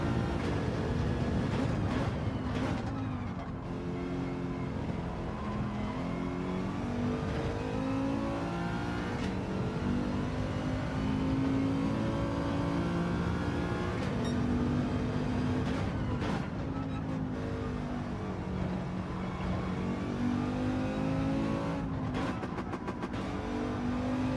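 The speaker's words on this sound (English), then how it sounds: "So do we rev this car out, or do we only bring the revs up halfway?" Mercedes race car engine in a racing video game, running loud and continuous with a steady droning tone that rises and swells in rev several times, no talk over it.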